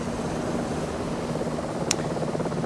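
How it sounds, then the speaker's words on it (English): Bell 222 helicopter in Microsoft Flight Simulator 2024, a steady loud rotor and turbine drone holding at an even level throughout, with one brief higher-pitched click near the end. "That is the Bell 222."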